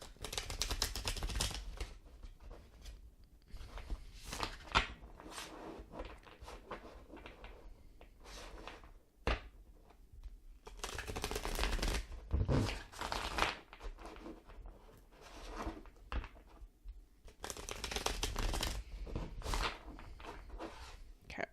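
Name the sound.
shuffling a deck of cards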